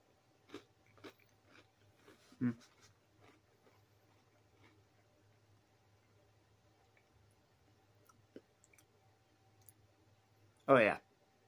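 Dry General Mills Rudolph hot cocoa cereal, a mix of marshmallows and cornflake-like pieces, is crunched close to the mic in a few brief, scattered bites. Quiet stretches fall between them, and a louder crunch or rustle comes at the end.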